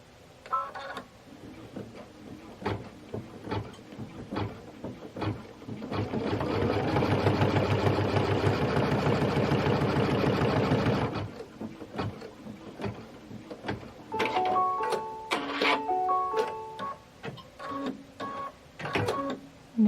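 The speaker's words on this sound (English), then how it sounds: "I can do the last step, which is stitching the satin stitch on this" A sewing machine runs steadily for several seconds stitching a satin stitch on a Kimberbell Cup of Cheer project, surrounded by quieter clicks and brief electronic beeps from the machine.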